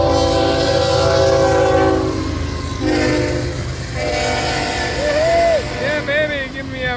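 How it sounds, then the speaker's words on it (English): A northbound Florida East Coast Railway freight train sounds its horn at Port Orange, Florida, with long loud blasts over the rumble and clatter of passing cars, while someone talks excitedly nearby. "Yeah, baby, give me a horn salute."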